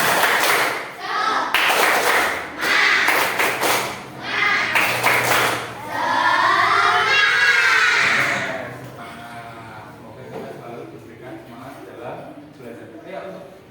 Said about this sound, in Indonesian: Kita tepuk semangat bersama-sama dulu. Tepuk semangat.